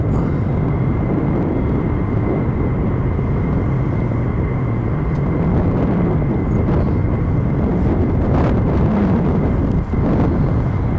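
A steady, loud roar of military jet aircraft at RAF Lakenheath fills the air continuously at night, with a broad rumble and some wind buffeting on the microphone.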